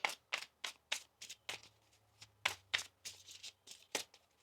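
Crisp riffling bursts of tarot cards being shuffled, about a dozen quick flutters in an uneven rhythm, close and fairly quiet with no talking.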